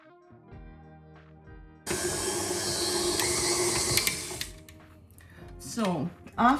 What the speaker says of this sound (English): with a hook attachment we're going to mix it for 10 minutes on medium speed